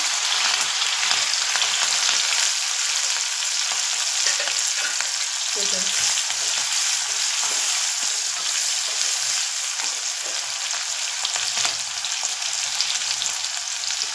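Garlic and green chilli fry in hot oil with mustard seeds in a kadhai, giving a steady, loud, dense sizzle that fills the whole stretch without pause, with faint occasional stirring beneath.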